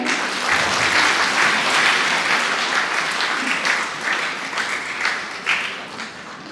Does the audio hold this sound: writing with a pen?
no